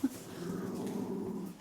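A pet dog named Stanley growling indoors, a low continuous rumbling snarl, close and steady, beginning with a short sharp yip.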